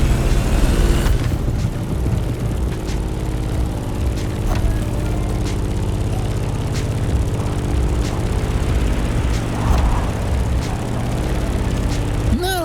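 A propeller plane's engine drones steadily and loudly in The Crew Motorfest, holding an even, throbbing hum all the way through with faint clicks scattered over it.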